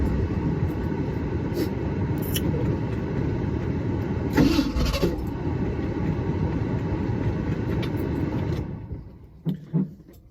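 Car engine cranking and firing after the accelerator pump is pressed a couple of times, on a car out of gas: a steady loud churning drone with a brief surge in the middle, then fading toward the end with a few short bursts.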